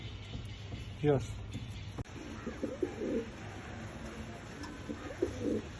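Soft pigeon coos repeat at intervals against a low background hum, with one brief louder call near the start.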